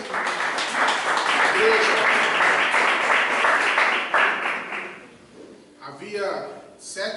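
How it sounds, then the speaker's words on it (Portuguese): A church congregation applauds during a worship service, a dense loud clatter of clapping lasting about five seconds under a speaking voice, then thinning out as talk carries on. "dar uma salva de palmas para Jesus."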